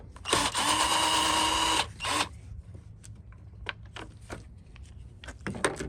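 A power drill backs out 5/16 bolts holding the top cover on a Craftsman lawn mower with a standard Briggs engine, giving a steady close whir of about one and a half seconds, then a brief burst, followed by faint clicks and handling noises.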